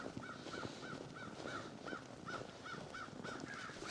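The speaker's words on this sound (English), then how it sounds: "Lots of crows." Crows caw repeatedly in wintry farm woods, a steady series of about nine harsh calls spaced evenly apart at moderate distance, with faint background noise and no talking.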